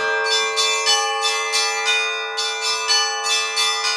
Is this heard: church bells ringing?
yes